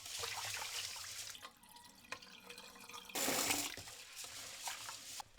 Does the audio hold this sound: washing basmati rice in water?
yes